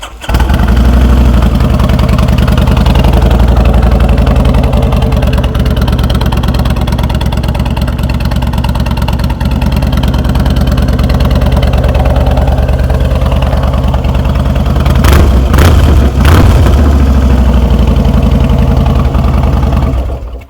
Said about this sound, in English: pretty happy with the way that bike sounds